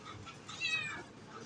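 A pet cat lets out a single short meow at close range, a clear rising-falling cry over faint room background.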